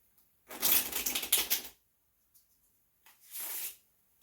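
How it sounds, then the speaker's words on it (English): Playing cards riffle shuffled nearby, a fast crisp ripple lasting about a second, followed after a pause by a shorter soft bridging riffle, in an otherwise quiet room. "that is how to do a Riffle Shuffle"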